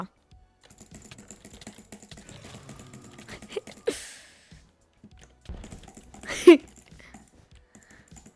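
Quiet, scattered clicks of typing on a computer keyboard, with a couple of louder knocks in between and a faint voice in the background.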